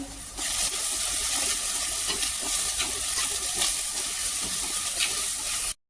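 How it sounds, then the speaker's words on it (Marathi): Ginger, garlic, green chili and coriander paste sizzles with onions in hot oil: a loud, steady frying hiss, close by, broken by soft stirring scrapes, rising abruptly at the start and stopping sharply at the end. "आता यामध्ये मी दोन चमचे इतकी अद्रक लसूण हिरवी मिरची आणि कोथिंबिरीची पेस्ट टाकते"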